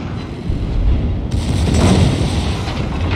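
Heavy warship guns boom in a World of Warships naval battle, a deep, rumbling roar that swells and sustains for several seconds, loud and close with no talking.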